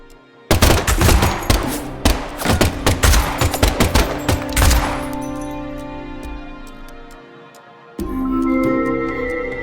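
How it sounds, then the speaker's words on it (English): Rapid bursts of gunfire in the video game Deadly Premonition 2, a loud dense volley of sharp shots for several seconds that thins out and fades into a lingering ringing tail, followed by a low sustained tone. "the last gunshot we heard sounded ominous"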